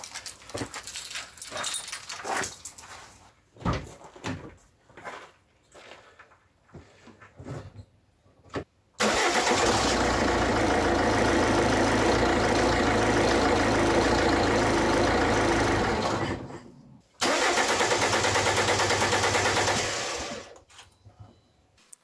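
An engine cranks and catches after fuel has been pumped, running on fuel left in the lines. It roars loud and steady for about eight seconds, cuts out briefly, then revs again before stopping, with scattered knocks and handling noise before it starts.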